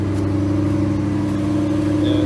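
Ford Shelby GT500 on stock mufflers idling after a cold start, a loud close, steady low rumble with a continuous engine drone and a faint high whine near the end, no voices.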